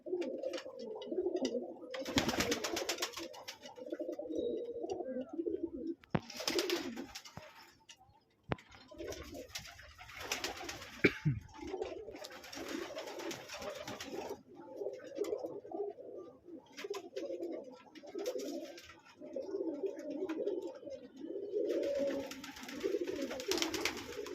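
A pigeon in a loft coos in repeated throaty bouts, close and fairly clear, with short pauses between each run of calls.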